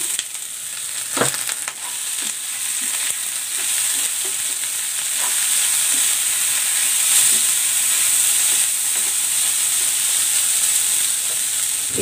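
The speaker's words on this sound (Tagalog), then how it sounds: "Igigisa ko na tong mais." Corn sautéing in a pan makes a loud, even sizzling hiss that runs the whole time, with a few scattered clicks from stirring.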